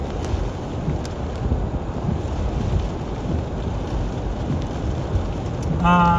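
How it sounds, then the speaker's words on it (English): Steady rain pours down with gusty wind buffeting the microphone during a non-severe thunderstorm near Centerville, South Dakota, a continuous storm wash throughout; no distinct thunderclap stands out. "this is a non-severe thunderstorm over by Centerville, South Dakota"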